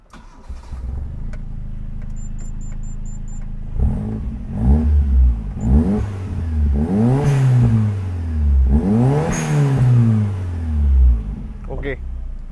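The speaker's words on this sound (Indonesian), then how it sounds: "Nah sekarang kita hidupin mesinnya nih," A Toyota Starlet EP71 with a turbocharged 4E-FTE engine cranks and catches, then revs repeatedly in rising and falling sweeps, loud and close, ending with a brief blip.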